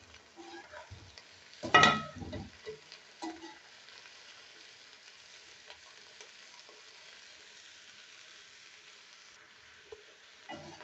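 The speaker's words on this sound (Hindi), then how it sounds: "प्याज के साथ भिंडियाँ हमारी फ्राई होना स्टार्ट हो गई हैं" Chopped onion and okra fry in a pan for masala bhindi, a faint, low sizzle under a few soft clanks of stirring, with one louder scrape near the start and quiet in between.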